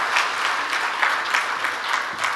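An audience gives a round of applause for an eminent speaker at an event. The dense, even clapping is fairly close and lasts the whole brief moment.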